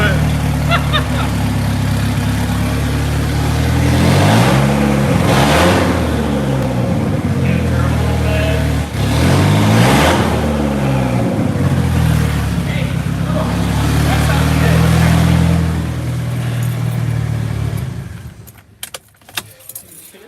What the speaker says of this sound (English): Someone said rev it